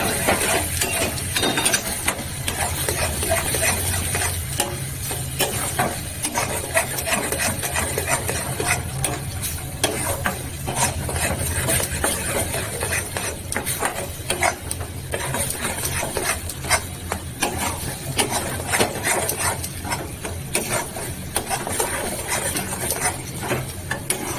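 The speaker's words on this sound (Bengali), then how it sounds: "এবার এটা নাড়তে থাকবো অনবরত।" Ginger, coriander, cumin and dried red chilli fry in a pan under constant stirring, a continuous close scraping and rattling of the spoon over a low sizzling hiss throughout.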